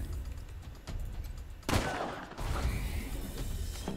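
Shotgun fire in Wasteland 3, a sharp loud blast standing out from quieter rattling gunfire, followed by continued combat noise.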